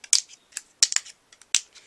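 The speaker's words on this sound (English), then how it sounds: "I use my tweezer bee and just go in there and I get rid of all the big, can you kind of hear it clicking?" Tweezers click sharply against a metal cutting die while paper is poked out, giving a handful of crisp, close, irregular ticks with quiet gaps between them.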